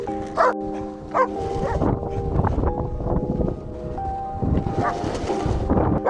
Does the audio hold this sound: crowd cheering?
no